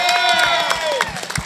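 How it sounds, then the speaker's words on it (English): A crowd at an outdoor patriot rally against red flag laws in Columbus, Ohio cheers and claps, with scattered whoops and shouts over clapping, loud and close for a brief burst. "Let's give him a loud round of applause here"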